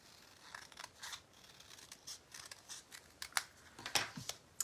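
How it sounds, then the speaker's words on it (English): Scissors snip through a craft piece for a beach-themed gift card holder, giving a run of quick, close, crisp cuts at an irregular pace with no talking. "I'm going to actually cut that down just a little bit more"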